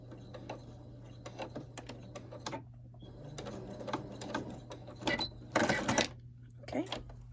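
A sewing machine back stitches a fabric face mask in short, uneven bursts of rapid mechanical clatter, stopping and starting with quiet gaps between runs.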